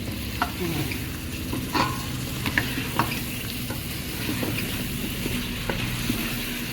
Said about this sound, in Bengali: নাড়া দিই।